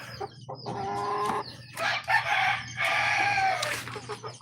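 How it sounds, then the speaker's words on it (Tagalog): Chickens and a small rooster cluck and call loudly at close range during feeding in a backyard flock, repeated busy clucking bursts with short gaps, no talking. "Tuman tayo, maliit na tandang"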